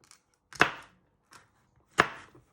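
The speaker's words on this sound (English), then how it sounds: "you first chop it in half again, and you want to finally slice it like that" A knife slices through a de-seeded pepper on a cutting board: two sharp, firm chops with softer taps between them, close and dry, with no talking.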